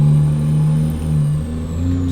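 A Cummins NTC Big Cam 400 truck engine in American Truck Simulator drones at a steady low rumble with an automatic transmission, the pitch shifting slightly as revs change, loud and close with no voices.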